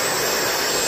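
A DeWalt battery-compatible handheld blower runs in a garage, giving a steady broadband whoosh of rushing air with a faint high whine, brief and fairly quiet.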